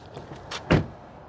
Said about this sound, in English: we have to do a sound check to hear the sound of the closing door